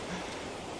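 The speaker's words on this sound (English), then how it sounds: "The waves are coming in, so I'm gonna get wet." Ocean surf washes in on a Hawaii beach as a steady, broad rush of breaking water, close and fairly loud, with no voices.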